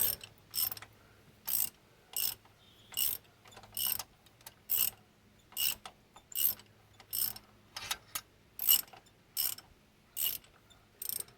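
Ratchet wrench tightening bolts before torquing, with regular bursts of close, crisp ratcheting clicks, about fifteen short strokes separated by brief pauses.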